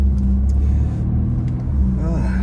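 Steady low rumble of a car being driven, heard from inside with a continuous engine and road drone, a faint voice-like tone rising near the end.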